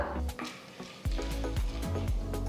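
Chana dal dropped into hot oil in a kadai for tempering, crackling and sizzling close up, with a few sharp pops and stirring scrapes over a steady fry hiss.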